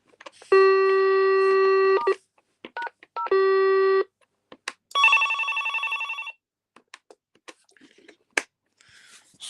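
A desk telephone cycles through its ringtones. Two sustained electronic tones are broken by brief beeps, then a loud warbling ring lasts about a second and a half, with scattered button clicks and handling noise around them.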